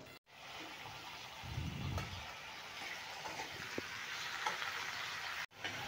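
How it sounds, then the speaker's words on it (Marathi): Chopped onion, tomato and green chilli fry in hot oil in a wok, giving a soft, steady sizzle with a brief louder burst of stirring near the start. "चांगले फ्राय करून घेणार आहोत।"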